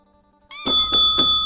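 After a brief silence, a bright, ringing bell strikes three times in quick succession, close and clear, each tone lingering as it decays.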